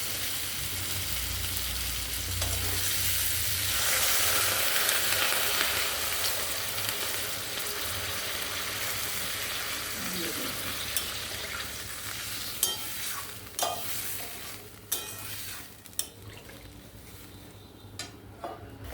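Potato and pointed gourd in spice masala fry in oil with a strong, close sizzle that gradually softens, followed by sharp utensil knocks and scrapes against the pan.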